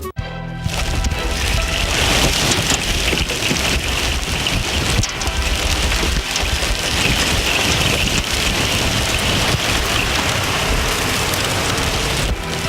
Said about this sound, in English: hail and heavy wind, a lot of rain as well